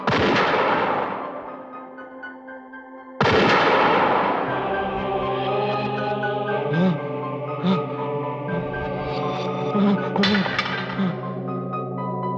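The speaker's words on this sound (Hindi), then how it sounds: "गोली चला चौधरी।" Two sharp gunshots crack out in a Hindi horror drama, the second about three seconds after the first, each with a ringing decay before a sustained, eerie tonal drone takes over.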